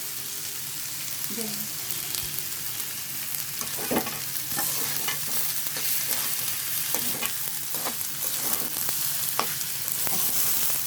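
Rice and lentils sizzle in a hot pan for khichuri while a utensil stirs and scrapes repeatedly, with irregular clacks over a constant frying hiss.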